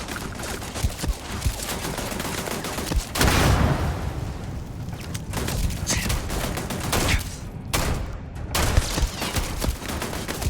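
Turret gunfire in the video game Starfield, a loud continuous barrage of rapid shots with a heavier burst in the middle, filling the whole stretch with brief gaps near the end.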